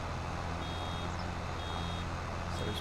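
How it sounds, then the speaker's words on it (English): A farm vehicle in Farming Simulator 25 gives off faint, steady reversing beeps at even intervals while backing up with a bale, set under a constant engine rumble. "There's beeping there."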